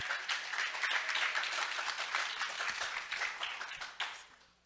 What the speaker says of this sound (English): Round of applause for Kaisha.